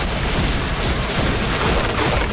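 Dense, continuous rumble of blasts and gunfire from a Point Blank online shooter match, loud and sustained throughout with no clear gaps.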